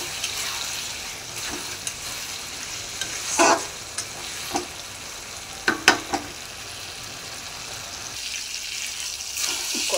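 Cut potatoes and tomatoes frying in spiced oil, a continuous sizzle with sharp spatula scrapes and clinks against the pan scattered across the stretch, no voices.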